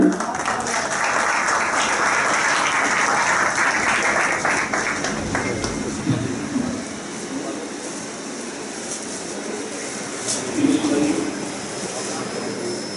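Crowd applause at a political welcome ceremony where guests are garlanded, loud and dense through the first half, then thinning to lighter clapping with voices and crowd murmur underneath.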